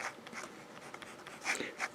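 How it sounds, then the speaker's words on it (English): A Kaweco Liliput fountain pen writes in reverse on paper with very light pressure, producing close, quiet, continuous scratching with slightly louder strokes near the end. "This is just hardly any pressure at all on reverse writing."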